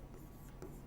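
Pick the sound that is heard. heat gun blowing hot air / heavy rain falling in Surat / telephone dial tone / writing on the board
writing on the board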